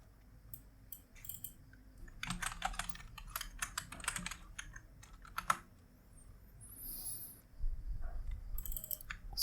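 Computer keyboard typing, quiet and close, in irregular bursts of keystrokes with short pauses between them and no talking.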